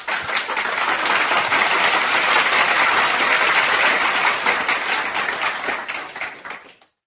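A round of applause, dense and loud continuous clapping from many hands that holds steady for about six seconds before quickly fading out.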